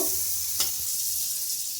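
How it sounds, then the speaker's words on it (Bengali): Butter melts in a hot kadai with a soft, steady sizzle and a single brief clack of a utensil against the pan. "এবার বাটারটাকে ভালোভাবে গলিয়ে নেব।"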